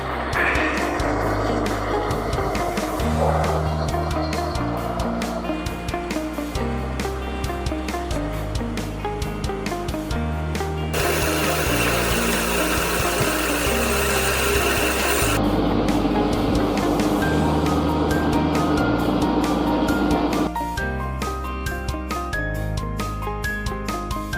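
A small edge polishing machine grinds the straight edge of a marble or quartz slab, giving a loud, continuous abrasive rasp with a steady motor hum, shifting in tone partway through and running alone without talk.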